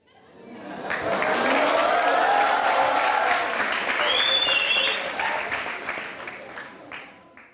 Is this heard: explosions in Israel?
no